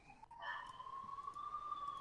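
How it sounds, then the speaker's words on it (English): An ambulance siren wails faintly in the distance, its tone sliding steadily, with quiet background hum and no voices. "you hear the ambulance"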